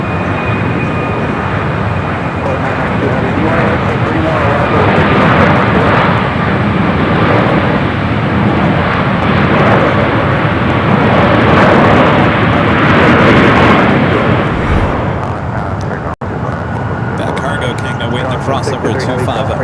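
A Boeing 787-8 Dreamliner heavy jet arriving on runway 25 left at Los Angeles LAX, a loud sustained engine roar swelling and then fading, with a voice talking over part of it.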